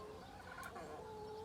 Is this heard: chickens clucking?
yes